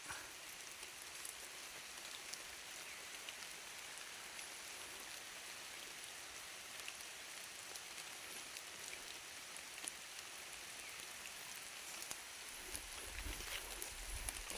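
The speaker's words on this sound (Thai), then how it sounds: "บรรยากาศฝนเล่นครับ" Steady rain patters on leaves and surfaces, a soft, even hiss with occasional drips, and a brief low rumble near the end.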